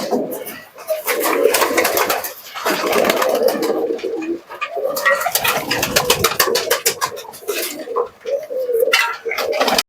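Rampuri pigeons at a pigeon sale coo loudly and close by, their throaty calls swelling in repeated bursts with brief pauses between waves of sound.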